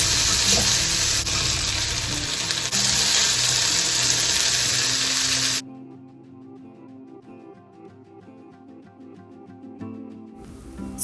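Potatoes fry in a pan with turmeric, chili powder and salt, giving a loud, dense sizzle for several seconds that then drops away to quieter kitchen clatter before a brief return of noise.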